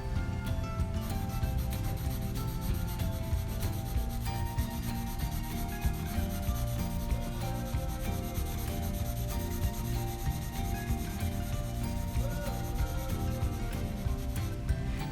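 Pencil graphite rubbing steadily across paper while shading a gradient, pressing hard at first and then easing off, a continuous close scratchy texture that stays even throughout with no voices.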